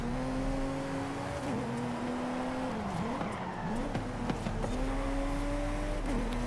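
A race car engine in Forza Horizon holds a steady high drone, its pitch dipping and climbing as the driver shifts through gears, loud and close with no talk over it.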